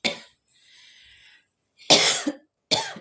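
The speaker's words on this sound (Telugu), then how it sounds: "ఈ మధ్య నాకు ఈ దగ్గు ఒకటి స్టార్ట్ అయింది, క్షమించాలి మధ్యలో దగ్గుతున్నందుకు" A person coughs three times: a short cough, then after a quiet gap two louder, close, harsh bursts in quick succession, alone without talk.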